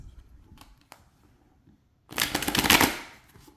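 A deck of laminated cardstock tarot cards is riffle-shuffled once, a fast fluttering burst of crisp card flicks lasting about a second, close and fairly loud after quiet handling noises.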